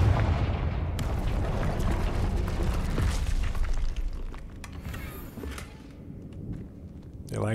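A Confringo fire spell explodes in Hogwarts Legacy with a heavy, booming blast and crackling bursts, then a long rumbling tail that slowly fades.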